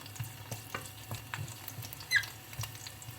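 Garlic softens gently in oil in a frying pan over moderate heat, a quiet, low sizzle broken by soft intermittent clicks and scrapes of stirring, with no talking.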